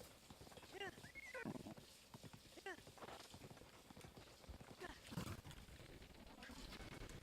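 Horse hooves clip-clopping in a quick galloping rhythm in Zelda: Breath of the Wild, faint and mixed with game sounds and a few horse snorts, under a person talking.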